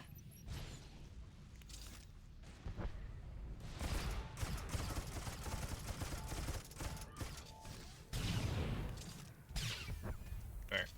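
Rail turrets fire in an online video game boss fight, a steady barrage of heavy booms and mechanical bursts that surges and pauses over a dense, noisy battle mix, with faint voices underneath.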